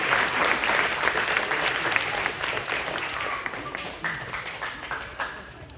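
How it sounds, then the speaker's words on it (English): Community audience at a school band concert gives a round of applause, dense clapping from a crowd that is strong at first, then slowly fades into scattered claps. "So give yourself all a round of applause for supporting music in all of the schools in British Columbia."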